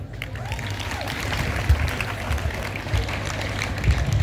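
An audience applauds after a speech at a cadet school anniversary ceremony, a steady wash of many hands clapping that carries on evenly at moderate loudness.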